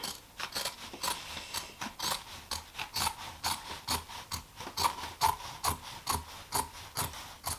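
Scissors cut a fabric strip in half for tote bag handles, heard as a steady run of close, crisp snipping strokes repeating in an even rhythm, with no talking.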